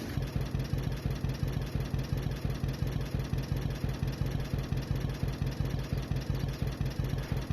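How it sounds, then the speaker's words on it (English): A John Deere Model A tractor engine in a video game mod, idling with a steady, rapid, even popping beat, loud and close with no other sounds. "these tractors were famously known for having a popping sound when they were running"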